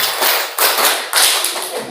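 A group of teachers at a school workshop claps a rhythmic pattern, sharp grouped claps landing in a few distinct bursts, close and loud, with no talking.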